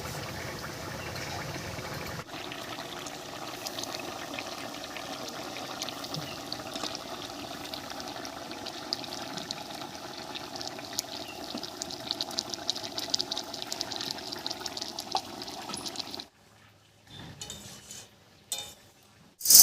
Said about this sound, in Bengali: ঝোলের মধ্যে মাছটা দিয়ে একটু নাড়িয়ে নিয়েছি